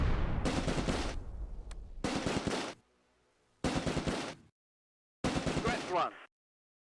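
Bursts of tank and machine-gun fire in the Close Combat: A Bridge Too Far game during an ambush near Son, with a Sherman tank returning fire; four loud broadband volleys separated by short pauses, the last trailing into a faint echo.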